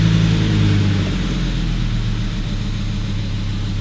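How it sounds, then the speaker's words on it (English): A Volvo 850 engine idles with a low, steady rumble that rises and dips slightly as it surges, close and continuous with no talk. "But you can see it's idling. It's surging just a smidge"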